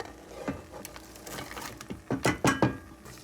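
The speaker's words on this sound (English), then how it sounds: "So now I'm going to add some onion." Onion going into a pan of butter and bacon grease for corn and potato chowder, with a low sizzle and a few clinks and scrapes of utensils against the pan that grow louder toward the end.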